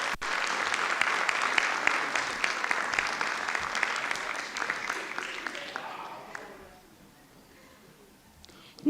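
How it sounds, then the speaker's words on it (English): Warm applause from an audience at a school district board meeting, dense clapping for about six seconds that fades out, with scattered voices underneath. "Let's give these students another round of applause."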